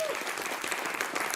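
An audience claps together in a dense, steady round of applause, filling the room with continuous close-sounding patter, and a voice is briefly audible over it.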